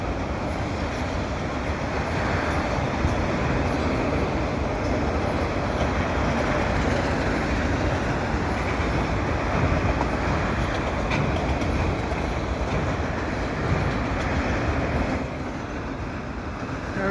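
A CP freight train of double-stack cars and auto racks rolls past at Des Sources, a steady loud rumble of wheels on rail with rattling and faint squeal lasting throughout, no talk.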